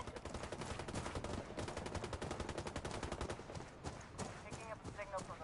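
Rapid automatic gunfire from the video game Ghost Recon Wildlands rattles in dense, continuous bursts, loud and close, with a brief lull near the end before more shots.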